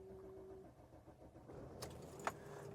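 Sprinter RV engine comes to life close by after a faint jingle of keys, a quiet idle hum rising into a brief start burst near the end.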